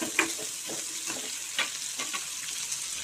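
Onions sauté in hot tempering oil for a tamarind kuzhambu with cowpeas and brinjal, giving a soft steady sizzle broken by several light scraping stirs of a spoon; no voices.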